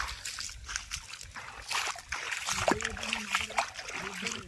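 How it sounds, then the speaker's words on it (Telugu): Heavy hailstorm rain on a farm with sheep, water splashing and sloshing loudly and continuously with broadband noise, a voice speaking faintly underneath in places. "ఫుల్ వాన అంటే ఫుల్ వాన పడ్డది"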